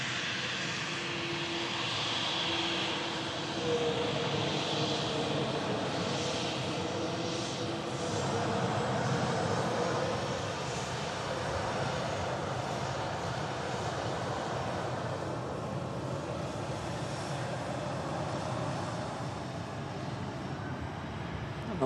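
A Helvetic airliner arriving at Manchester Airport from Zurich fills the scene with a steady, broad engine roar that holds at a constant loudness throughout, with no talking.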